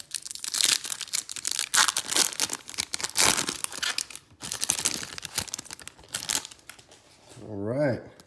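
Foil wrapper of a 2020 Topps Finest baseball card pack crinkling and tearing open in a near, busy rush of crackles, with a brief voice near the end.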